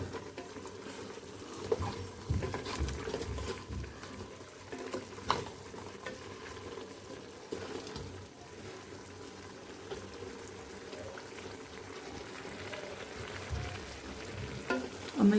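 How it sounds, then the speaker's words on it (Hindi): Mutton paya frying in oil, a soft uneven sizzle with occasional stirring knocks and bubbling, fairly faint and steady. "5 से 7 मिनट अच्छी तरह भून लेती हूँ। तकरीबन इसमें आधा कप ऑयल डालते हैं।"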